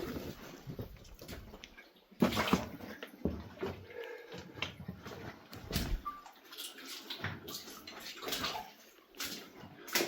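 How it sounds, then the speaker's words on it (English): Water runs into the underground workings of the Votty and Bowydd slate quarry mine, an uneven gurgling and splashing flow with irregular louder bursts, close by and echoing. "we've got water flowing into the mine here"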